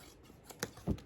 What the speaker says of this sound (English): I'm gonna go ahead with my pair of scissors, just cut around.